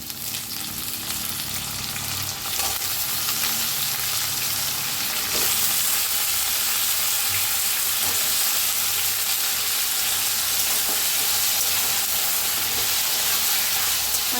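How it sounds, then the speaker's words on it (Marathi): Potatoes fry in hot oil alongside onions for a cabbage dish, a steady close sizzle and crackle that swells slightly after a few seconds and continues without talk. "त्याच्यातच बटाटू भाजून घेऊया।"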